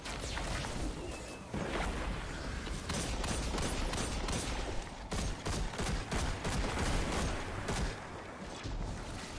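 Rapid video game gunfire in Destiny 2 aimed at the player, a dense continuous barrage of loud shots and impacts over about nine seconds with brief gaps.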